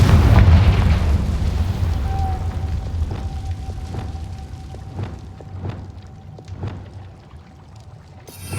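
Confringo blasting spell in Hogwarts Legacy: a loud explosive boom opening the clip, then a long rumbling, crackling decay with scattered faint pops and a soft ringing tone, no talk.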